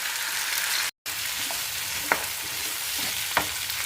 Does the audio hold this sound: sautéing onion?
yes